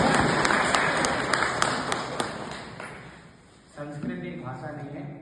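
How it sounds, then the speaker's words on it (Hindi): Audience clapping for a university vice chancellor at a Sanskrit certificate ceremony, a dense burst of applause with sharp individual claps that fades out, followed by a voice speaking. "सर के लिए एक ताली"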